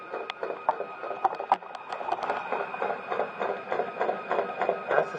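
A drain cleaning machine turns its cable inside a clear drain tile at a downspout, giving a faint, steady stream of small rattling ticks and taps heard close up from the pipe.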